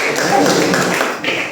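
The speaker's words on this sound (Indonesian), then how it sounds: "Tepuk tangan dulu." A class claps together after a group presentation, a continuous close burst of hand claps mixed with people talking.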